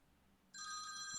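A telephone suddenly starts ringing with a bright, steady electronic trill that cuts in halfway through after a quiet room hum, close and clear with no talking.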